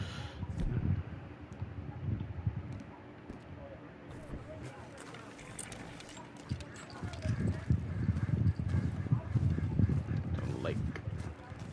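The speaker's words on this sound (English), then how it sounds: "Why am I getting on my horse?" Horse hooves clip-clop in the video game Red Dead Redemption 2 at a steady walking rhythm, fairly close and loud, alongside rustling ambience with a voice speaking over them.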